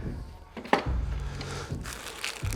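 A small plastic bag pulled from a replacement transfer belt cleaner box for a Xerox AltaLink C8000 series copier crinkles and rustles in irregular bursts, close and moderately loud, with one sharp crackle.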